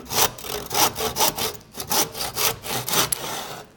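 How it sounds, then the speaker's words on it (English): A tenon saw cuts through wood with a steady back-and-forth rhythm of about a dozen rasping strokes, close and fairly loud, with no talking. "back with my tenon saw that again you're familiar with, and I'm going to cut that off"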